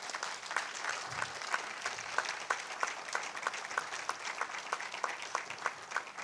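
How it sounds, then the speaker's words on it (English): Applause for the lead sponsor, GCB Bank PLC, at a company AGM: a steady crowd of hands claps through the whole stretch, moderately near and even, with no voices over it. "Can I hear a huge round of applause for them?"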